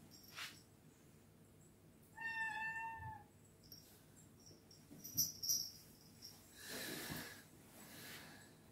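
A tuxedo cat gives a single clear, drawn-out meow close by in a quiet room, followed by soft rustling, a few faint snuffles and light shuffling movements.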